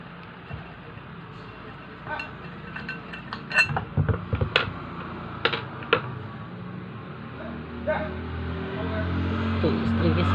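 A ceiling fan is dismantled with scattered metallic clinks and knocks as its last bolts come out, bursts of clatter over a low background rumble, with someone talking throughout.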